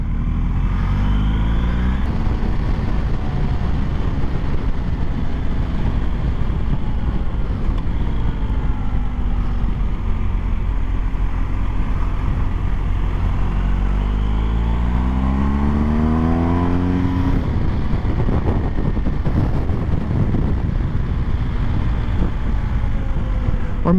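An adventure motorcycle rides a racetrack with a loud, continuous engine drone heard from the saddle, rising and falling as it revs and shifts through gears, with heavy wind rush throughout and no speech.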